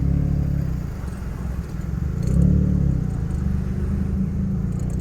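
Cars arrive and park at a busy Esplanade 2 in Temerloh, giving a continuous low engine rumble with passing vehicle noise and a light jangle, no talk.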